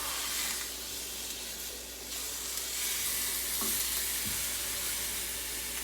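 Country style ribs sizzle hard in a stovetop pan, a dense steady hiss with brief clatters as they are flipped over. No one speaks.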